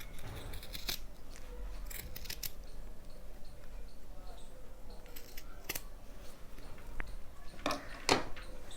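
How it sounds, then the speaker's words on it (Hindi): Scissors snip through extra tuxedo fabric in a series of sharp, close cuts at an uneven rhythm, with a louder cluster of snips near the end and quiet handling noise in between. "ये जो एक्स्ट्रा पीस होता है हम इसे काट देंगे।"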